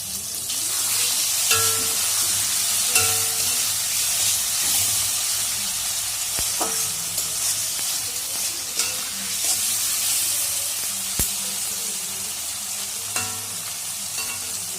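Prawns frying with browned onions in a pan for prawn kalia: a loud, continuous close sizzle and hiss, broken by scraping stirs and occasional metallic clinks.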